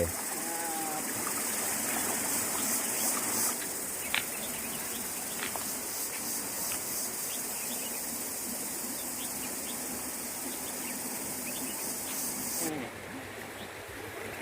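A rural forest stream flows in a steady, moderate babble, with insects and occasional birds around it and a person speaking over it at times.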